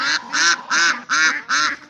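Backyard geese or ducks honk in a steady series of five loud, nasal calls, close by and evenly spaced, with no other sound between them.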